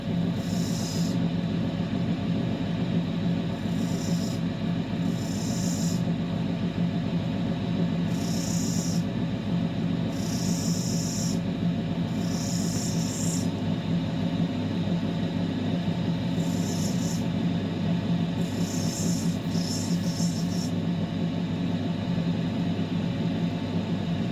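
Steady rasping of an opal being sanded on a grinding wheel, a continuous close whirring drone with intermittent brighter bursts of grinding contact, no talk.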